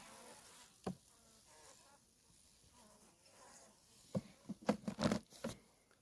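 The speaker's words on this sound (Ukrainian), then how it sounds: "Ось так дана бджолосім'я сидить." Bees hum softly at close range inside an overwintering hive, then a cluster of louder buzzing bursts near the end.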